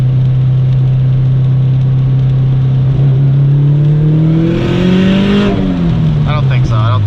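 A 2005 Subaru STI accelerates hard, its engine loud and droning with rising pitch through the gears, recorded from inside the car with a sharp shift partway through.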